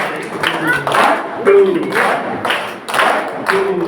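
Children at a school summer camp in Balrampur, Chhattisgarh clap in a steady counted rhythm while a voice calls out the count over the claps.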